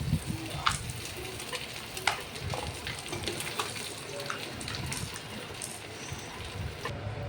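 Boiled jackfruit pieces fry in hot oil, just after prawns were fried in the same pan, giving a steady, close sizzle with scattered pops and a few stirring clinks, no talk over it.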